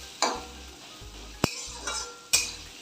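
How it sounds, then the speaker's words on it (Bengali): Onion and capsicum fry in a pan for a Bengali duck egg curry, giving a soft sizzle broken by several sharp scrapes and clinks of a stirring utensil against the pan, with no talking. "পেঁয়াজটা ভাজা হয়ে এসছে, ক্যাপসিকামটাও বেশ নরমই হয়েছে"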